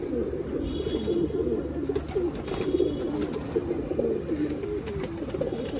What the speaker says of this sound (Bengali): এই কবুতরটা হচ্ছে এই যে কবুতর